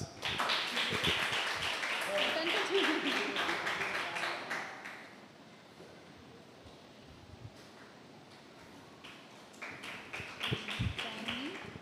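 Church congregation clapping for children during a Pentecost Sunday worship service, with a burst of applause that fades out, then picks up again near the end, with people talking in between.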